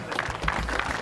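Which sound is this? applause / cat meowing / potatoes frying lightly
applause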